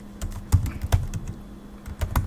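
Keystrokes on a computer keyboard as a Linux terminal command is typed while setting up SSH keys on Linux Mint: a close, uneven run of sharp clicks and taps with short pauses between bursts.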